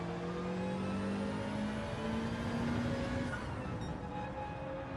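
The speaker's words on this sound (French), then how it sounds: "Il y a une voiture qui fait un putain de bruit" A BMW Z4 roars on the Red Bull Ring, its engine note climbing steadily and then dropping off, sustained and moderately loud amid other track noise.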